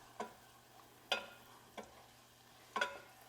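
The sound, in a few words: stirring flour roux with garlic in a pan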